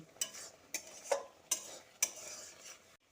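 Mustard paste being mixed into whole tomatoes in a pan, with a series of about five distinct, sharp spoon-on-pan scrapes and clinks spaced roughly half a second apart over a faint sizzle, close and otherwise quiet.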